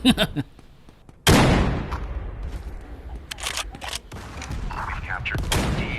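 Sniper rifle fire in the VR game Forefront: a sharp loud shot followed by a long rumbling decay, with further fainter cracks and someone talking over the battle noise.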